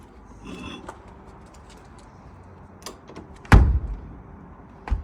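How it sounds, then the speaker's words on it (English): An external fire door closes into a deep solid wood frame. Faint rattles and clicks come first, then a firm, close thud as it shuts, followed by a smaller knock at the end. "What I'm going to show you now, as I close the door"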